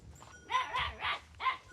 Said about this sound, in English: There's a puppy barking at me.